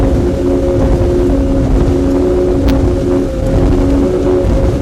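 A Sunseeker Hawk 38 motorboat engine roars steadily at full throttle around 6,700 RPM, loud and constant, with wind buffeting and water rushing throughout at nearly 60 knots.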